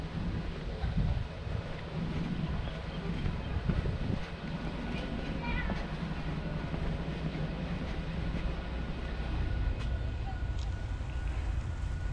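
An open-air tourist train rolls through the Dole pineapple plantation in Hawaii, giving a steady rumble with rattling and strong wind buffeting on the microphone, with no clear talk.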